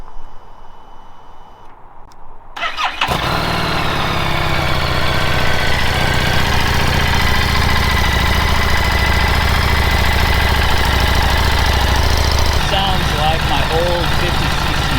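A Harley-Davidson Street 750 motorcycle with its stock exhaust cranks and fires after a quiet start, then settles into a loud, even, rumbling idle that carries on close up with a faint mechanical tick.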